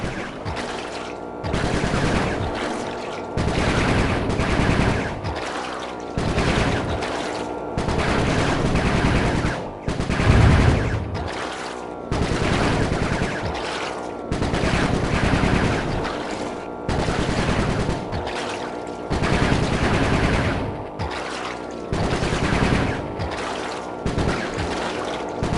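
Sly 3: Honor Among Thieves video game gunfire: loud, dense bursts of rapid shots that keep going with short gaps, heavy and close throughout, with no voices.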